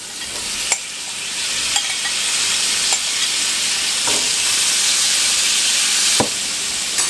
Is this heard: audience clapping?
no